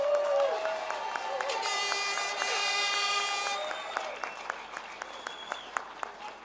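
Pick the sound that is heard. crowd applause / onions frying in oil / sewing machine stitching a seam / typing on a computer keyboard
crowd applause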